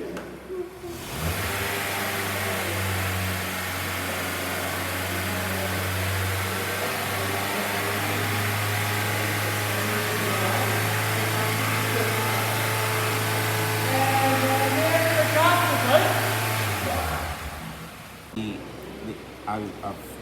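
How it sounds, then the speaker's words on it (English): Honda engine held at raised revs to warm it up. A steady, close engine drone lasts about fifteen seconds and then drops away, with faint background noise. "maybe let me rev it again and bring the temperature up"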